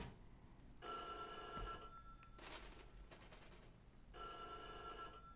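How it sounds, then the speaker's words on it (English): A telephone rings inside the Korean school horror game White Day, two bright ringing bursts separated by a short gap, heard fairly faint and alone without talk. "one of the phones rang"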